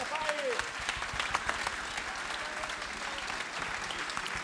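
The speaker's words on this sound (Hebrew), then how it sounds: "כפיים, כפיים." An audience applauds at a choir concert, a dense, steady patter of many hands clapping that fills the whole stretch at moderate loudness, with a few voices faintly audible beneath.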